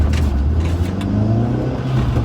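A convertible car's engine runs and revs in snowy, wet weather, giving a steady mid-pitched hum with a faint rising whir, close by and without talk.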